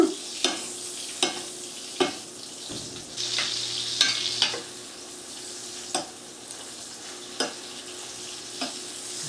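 Steak sizzling in a hot pan, a steady close hiss of frying broken by regular sharp crackles and spatters, with no talking.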